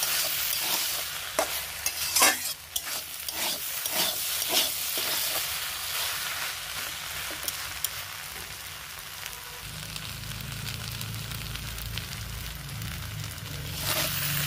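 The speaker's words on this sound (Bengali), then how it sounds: "এখন নাড়াচাড়া করে ভালো করে মিশিয়ে নিয়ে অল্প কিছুক্ষণ নেড়ে চেড়ে নামিয়ে ফেলবো।" Banana flower pulao (mochar polao) with ghee is stirred in a pan, giving steady close scraping and stirring with a soft sizzle throughout. A low hum starts partway through.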